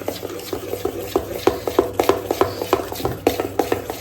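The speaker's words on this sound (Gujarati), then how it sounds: "હવે આપણે બધી સામગ્રીને મિક્સ કરી લઈશું" Surti locho batter with hing and turmeric being stirred in a bowl: repeated close scraping, tapping strokes in an uneven rhythm, moderately loud and without talk.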